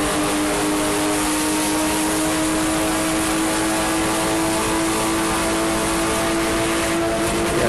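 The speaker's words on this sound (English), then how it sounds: "There's our leader, Musante, as he is working the last lap of the last sprint race here for this group at Watkins Glen International" A Porsche Spec Boxster race car on the last lap of a PCA club sprint race at Watkins Glen International sustains a loud, steady engine drone at speed with a constant pitch, and no voices are heard.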